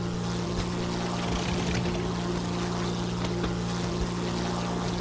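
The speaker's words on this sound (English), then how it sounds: "Stupid unupgraded engine." The unupgraded engine of a WWII fighter plane in the War Thunder combat game drones on without a break, a dense, constant roar that never changes in level.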